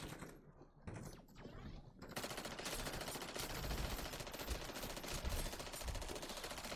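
Sentry guns in MW3 Zombies fire in continuous rapid automatic bursts, a dense, loud rattle that builds after a couple of seconds and carries on steadily with in-game noise and no talking.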